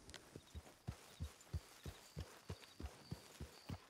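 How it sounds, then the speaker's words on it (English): A horse's hooves clip-clop at an even walking rhythm, about three steps per second, as a rider travels in Red Dead Redemption 2. The steps are clear and close over quiet ambience. "Looks like we're off on another little horse ride"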